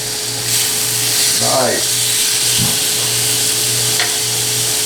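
Steaks sizzle in a hot pan as they are turned, giving a steady loud hiss with brief scraping, while one short spoken word rises over the frying.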